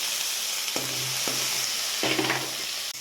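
Chopped onions fry in hot oil after a black cumin tempering, giving a steady close sizzle with a few stirring scrapes through the pan.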